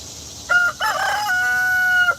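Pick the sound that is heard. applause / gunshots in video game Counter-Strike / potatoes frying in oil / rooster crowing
rooster crowing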